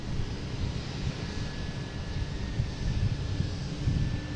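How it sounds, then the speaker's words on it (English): A Cape Air Cessna 402 takes off at Boston Logan airport, its engine a faint, distant, steady drone mixed with wind rumble and no talking. "next taking off is a Cape Air Cessna 402"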